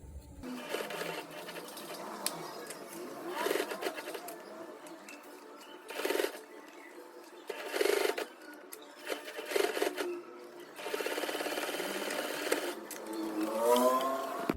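A sewing machine stitches the seam of a five-panel cap in short separate bursts of fast whirring, with quiet pauses and small handling noises between runs.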